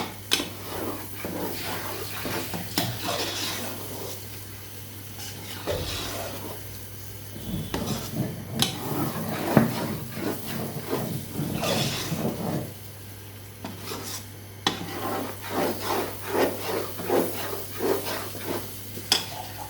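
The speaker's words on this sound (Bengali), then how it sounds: "বাদাম বাটা দিয়ে আরও কিছুক্ষণ আমি ভাজতে থাকি।" Ground nut paste frying in a pan, with steady sizzling under repeated stirring and scraping of a spatula against metal, close and moderately loud throughout, with clinks of utensils.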